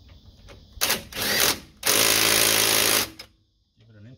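Two loud, close bursts from an impact wrench tightening a brake caliper bolt on a 2004 Jeep Grand Cherokee, a short rattle then a longer steady hammering, followed by quiet.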